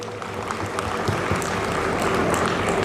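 An audience at a school annual function applauds young students, a continuous moderate clapping from many hands, fairly even and sustained, heard from a little distance.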